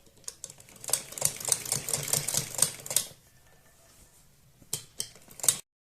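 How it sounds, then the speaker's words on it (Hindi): A sewing machine runs in quick rhythmic bursts stitching along a garment neckline, close and clear, then pauses briefly before a couple of short final runs. "एक सिलाई हम पूरे गले पर उल्टी तरफ भी इसी तरह से लगा देंगे"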